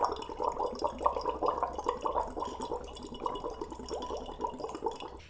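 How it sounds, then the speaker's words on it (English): Someone blows bubbles through a straw into water, producing a steady, continuous bubbling burble at close range, moderately loud with no talking over it. "And first, I just want you to blow bubbles."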